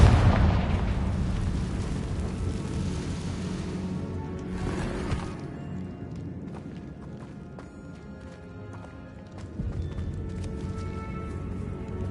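Casting the Confringo spell in Hogwarts Legacy sets off a booming explosion that opens loud and fades, followed by quieter game effects, light clatter and a second burst near the end.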